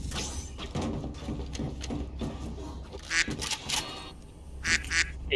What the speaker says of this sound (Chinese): 有鸭子